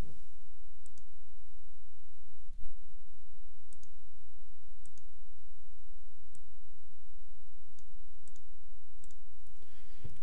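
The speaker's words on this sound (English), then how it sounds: "I'm going to type in some sample data" Soft, irregular clicking of computer keyboard keys while sample data is typed, quiet and close, over a low steady background hum with no talking.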